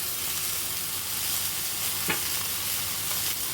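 Chopped ash gourd frying with egg in a hot pan, a steady loud sizzle throughout with a brief stirring scrape midway; no voices.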